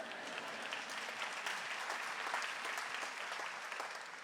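An audience at a State of the City address claps steadily, dense many-handed applause that holds evenly throughout and tapers slightly at the end.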